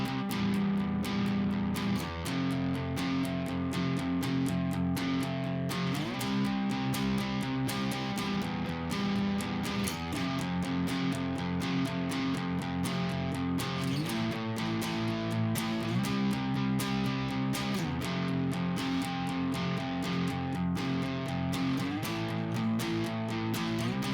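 An electric guitar plays the intro riff of a song, a steady repeating pattern of sustained, slightly distorted chords with a driving pulse, loud and alone throughout.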